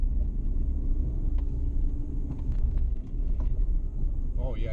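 A 2017 Chevrolet Colorado ZR2 pickup rumbles steadily along a dirt track, its engine and road noise continuous and close, with a person talking over it.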